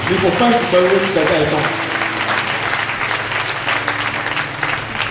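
A church congregation breaks into loud, sustained applause that swells early and then holds steady, with a voice carrying over the clapping.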